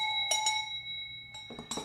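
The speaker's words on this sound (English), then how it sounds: "Give you a little bell." A small bell is struck a few times as a shout-out, giving short bright rings with sustained tones between strikes, fairly faint and close, with no talking over it.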